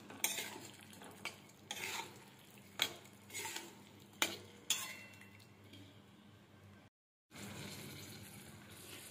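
Marinated prawns stirred into masala in a pan, a soft background sizzle broken by repeated spatula scrapes and clinks against the metal, close and quiet, with a brief gap of silence near the end.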